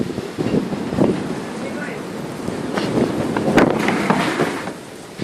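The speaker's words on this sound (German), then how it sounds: "Hier ist gerade richtig doll Wind." Strong wind gusts outdoors during a thunderstorm, roaring and buffeting the microphone with rising and falling bursts over a noisy rumble.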